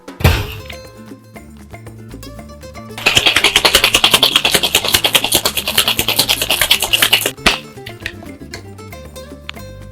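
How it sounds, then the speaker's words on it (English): Ice rattles hard inside a cocktail shaker in a steady, rhythmic burst lasting about four seconds while tequila cocktails are mixed, with soft background music underneath before and after. "Add ice to my shaker and give that a shake."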